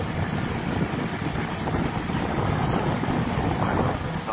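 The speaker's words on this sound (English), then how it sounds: "Sorry about the exhaust noise" Commercial kitchen exhaust hood fans roar in a continuous, loud, broadband rush that stays even and unbroken, with no voices over it.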